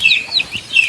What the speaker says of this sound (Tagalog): May alaga siyang manok dito.